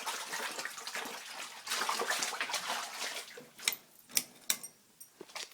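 Water flooding a basement gives a steady rushing, splashing wash that later breaks into a few sharp, separate drips and splashes, close by.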